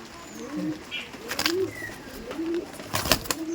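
Pakistani Chotiyal Kasuri pigeons coo in a series of soft, low calls spaced through the moment, with a few brief sharp noises and wing or handling sounds nearby.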